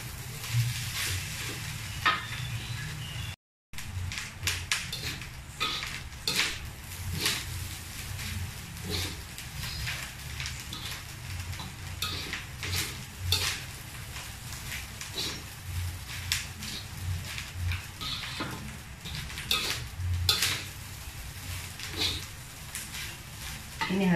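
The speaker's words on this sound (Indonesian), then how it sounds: "Ini harus sering kita aduk guys, supaya warnanya sama, juga nggak cepet gosong gitu guys." Grated coconut and tempeh srundeng stirred in a pan: close, repeated scraping and rasping strokes over a steady dry sizzle, continuing throughout with one brief break.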